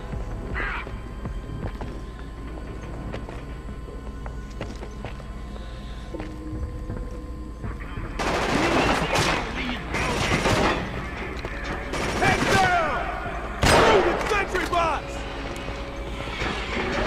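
Video game gunfire from Killzone 2 erupts in several loud bursts partway through, after a quieter stretch with game ambience, while a person talks.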